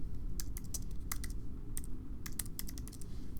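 Fingers type a field name on a computer keyboard in quick irregular bursts of crisp clicks, close and distinct, over a low background hum with no talking.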